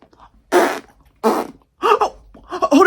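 Three or four loud, raspy fart bursts in quick succession, each lasting a fraction of a second, with short silences between them.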